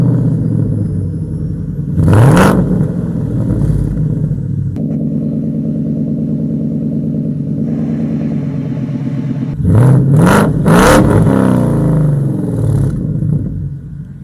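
A Ford Mustang GT500 Eleanor engine fires up with a loud burst, settles into a steady, rumbling idle, then blips through a couple of sharp revs near the end, close and alone.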